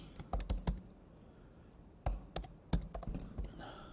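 Code being typed on a computer keyboard, sharp clustered keystrokes in two quick bursts separated by a quiet pause, close and clear with no talking.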